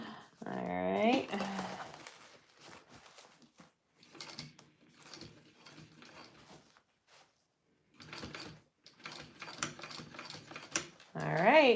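A sewing machine runs a top stitch along a fabric on-the-go pouch in two stretches of steady mechanical whirring, quiet and close, with a person talking before and after.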